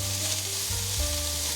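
Cabbage being stir-fried quickly in a pan with mushrooms, a steady, close hiss of oil and vegetables, with a low hum underneath and no talking.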